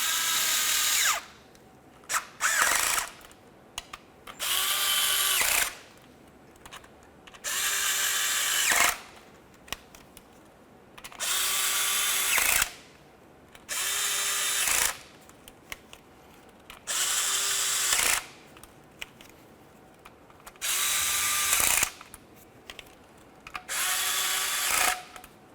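A power drill drives the oil pan mounting bolts on a 2004-2006 Scion xB, running in about nine short, loud whirring bursts separated by brief pauses, with no talking.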